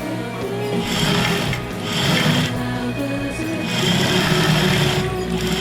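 A sewing machine stitching all the way around a gathered skirt hem, running in about three steady whirring bursts separated by brief slowdowns.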